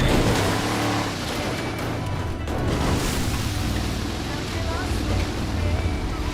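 Monster truck engine in GTA V, a steady loud rumbling drone as the 4x4 accelerates up a road, with talk over it throughout.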